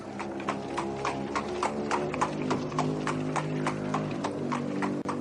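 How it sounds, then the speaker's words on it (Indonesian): Horse-drawn carriage drawing near, hooves clip-clopping in a steady, even trot, loud and close throughout on a road, with a faint rumble of wheels underneath and no talking. "Kereta kuda itu menuju kemari, Aki Japa."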